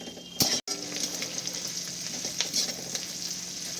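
Chopped capsicum and onion sizzle in a pan for a chilli egg dish, a steady moderate hiss with light stirring scrapes and one brief cut near the start.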